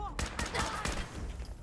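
Fallout 4 combat: a short burst of rapid gunfire, several close shots in quick succession with a voice shouting underneath.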